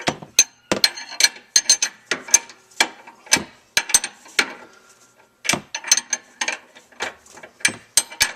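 A 21mm box end wrench ratchets on the lower control arm fastener of a 2005 Mustang GT, giving sharp close metallic clicks in quick uneven bursts with a short pause midway.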